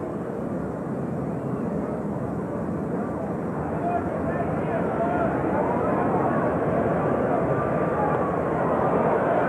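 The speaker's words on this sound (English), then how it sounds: "Here comes another airplane." A propeller airplane drones over a baseball stadium during a Braves at Mets game, a steady low rumble that slowly grows louder, with faint crowd murmur in the background.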